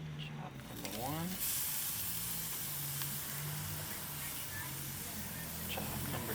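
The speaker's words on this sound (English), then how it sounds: "so I'm gonna go ahead and sear them on this side" Thick-cut pork chops sear over a Weber kettle grill with a constant close hiss and sizzle that swells as the meat goes down, while someone talks over it.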